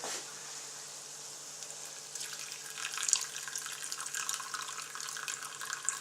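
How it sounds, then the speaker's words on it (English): Red wine poured onto small chopped onions in a pan: quiet background at first, then a liquid splash and rising hiss of sizzling as it hits the hot pan, continuing in a soft bubbling fry. "And to that, I'm just going to add some red wine."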